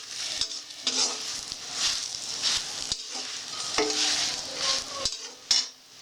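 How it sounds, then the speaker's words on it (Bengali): Fried paneer stirred and heated in a pan for chhanar dalna, a steady close sizzle broken by repeated sharp scrapes and clinks of a spatula against the metal, with no talking. "ভেজে নিলাম, গরম করে নিলাম।"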